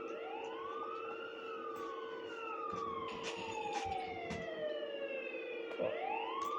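A police siren wails with rising and falling sweeps, heard from a short distance over low traffic rumble, with a quick yelp near the end.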